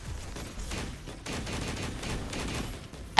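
Rapid gunfire and battle effects from the action game Punishing: Gray Raven, a dense continuous fusillade of shots filling about three seconds at steady loudness with no talk over it.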